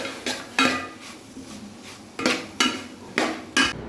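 Spoon clinks and scrapes against a pan while paneer filling is stirred, a few sharp metallic knocks at irregular intervals over quiet background, no talk.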